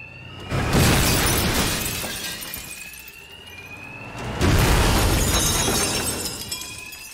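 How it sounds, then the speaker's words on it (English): In Batman: Arkham Knight, bank alarms blare inside Gotham's biggest bank during a robbery: two loud, harsh swells of ringing, crashing noise rise and fall close by, with no talking. "these thugs can't hear a thing over the alarms"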